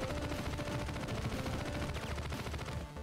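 Rapid automatic gunfire from weapons in the Hive Jump video game as aliens are shot down, a dense, continuous stream of shots at steady volume with no talking.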